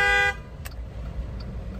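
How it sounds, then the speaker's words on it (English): A car horn in traffic gives one short, loud blast, followed by a couple of faint, distant toots against the low hum of the road, with no talk. "and people are honking"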